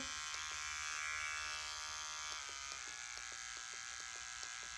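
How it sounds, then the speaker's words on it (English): Small pet grooming mini trimmer with a tiny sharp blade running on high speed gives off a steady close electric buzz with a bright whine, joined by faint repeated ticks in the second half, no talking. "I'll put the little mini trimmer as well. This one's very nice because that's on high speed at the moment, but if you listen"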